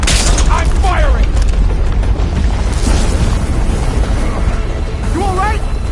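Weapon fire and explosions in the video game Horizon Forbidden West form a loud, dense, continuous rumble of booms and bursts, with voices and game dialogue heard over the barrage.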